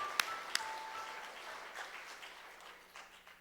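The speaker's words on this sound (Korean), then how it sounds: "우리 박수 한번 하겠습니다." Applause from a church congregation at a Sunday afternoon service honoring retiring and newly installed elders, opening with two sharp claps before fading into a soft, diffuse patter of clapping that slowly thins out.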